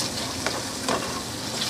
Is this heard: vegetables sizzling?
yes